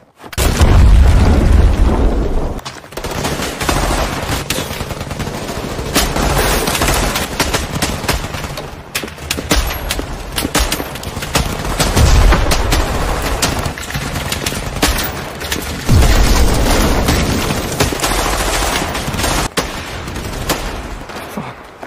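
A booby-trap bomb goes off in a film battle, giving a huge deep boom followed by continuous loud gunfire, machine-gun bursts and further blasts that stay dense and close for the whole stretch, with no speech.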